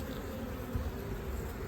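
Honeybees buzzing steadily at a hive colony, a dense continuous drone of many bees close by, fairly quiet with no speech.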